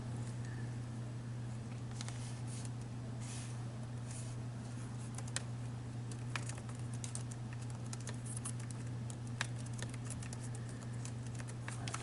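Steady keyboard typing into Microsoft Word, a run of light irregular key clicks over a constant low electrical hum, fairly close and quiet, with no voices.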